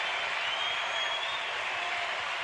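A basketball arena crowd cheering and applauding as fans rise to their feet at a Michigan State home game in East Lansing, a steady loud roar of mixed voices and clapping.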